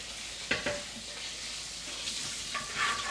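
Hot water hits a hot pan with leftover steak residue and sizzles loudly, a hissing wash with sharp crackles and pops that keeps fizzing steadily nearby.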